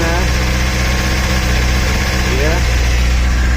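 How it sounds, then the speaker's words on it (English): A Honda 600cc motorcycle engine idles steadily during a cooling system bleed, a constant low, dense hum holding even throughout with a brief rising rev near the end, while people talk nearby. "Obviously if you rev the engine too hard, it's going to come straight out top"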